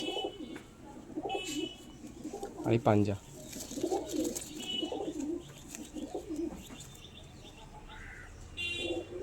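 Pigeons of a Madras breed cooing in repeated soft, low throaty phrases close by, with a voice speaking briefly over them and some faint background chatter.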